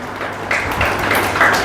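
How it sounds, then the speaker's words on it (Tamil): Audience applause at a community gathering, a steady wash of clapping from many hands that continues without a break, fairly loud and set against some background noise. "எல்லாருமே ஒரு கைத்தட்டல் மட்டும் கொடுத்துருங்க எனக்காக"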